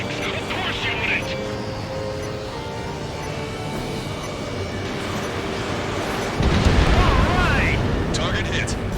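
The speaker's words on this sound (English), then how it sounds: "Confirming explosions. The rail cannon's been destroyed." Rail cannon blowing up in a combat flight game, a rumbling wash of explosions and jet roar with radio chatter early, then a heavier blast swelling near the end.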